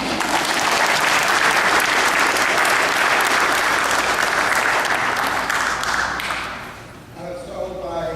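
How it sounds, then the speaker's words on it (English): An audience applauds a young singer in a hall, sustained dense clapping that holds strong for about six seconds and then fades out, followed by a voice beginning to speak. "Stand up so we can give you another applause"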